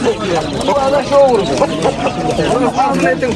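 Roosters and other poultry at a busy poultry market, with crowing-like calls rising over a steady hubbub of people talking and bargaining close by.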